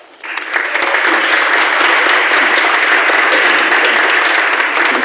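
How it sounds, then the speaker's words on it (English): Audience applause at a radio players' variety show swells quickly from near silence into a full, dense, steady ovation that carries on loudly to the end. "I'm sure he appreciates the applause"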